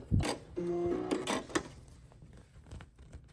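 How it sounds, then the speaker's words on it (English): A sewing machine stitches a dish drying mat into a pouch with a plastic window, running in a short whirring burst of needle strokes about an eighth of an inch from the edge, then pausing, with small clicks afterward. "I'm going to sew it about 1/8 of an inch away from the edge"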